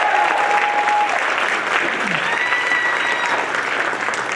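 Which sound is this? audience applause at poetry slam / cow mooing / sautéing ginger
audience applause at poetry slam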